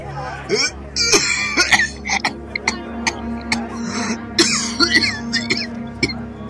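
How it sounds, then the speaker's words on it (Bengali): A man in an audio drama coughs in repeated harsh fits and throat clearing after smoking a cigar, the spasms coming close together over a low background. "তার কাশি শুরু হলো। কাশির দমকে তার চোখ যেন ঠিকরে বেরিয়ে আসছিল।"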